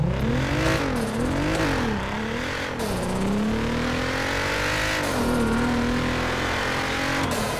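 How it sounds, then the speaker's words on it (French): Engine of a customized, somewhat dated Volkswagen Golf V6 in GTA 5 revving and accelerating hard, rising and falling pitch through gear changes then a long sustained climb, loud and close with a faint tire squeal and no talking. "Il est magique, ce moteur. Il fait un bruit, mais... C'est le V6 Volkswagen, bien entendu."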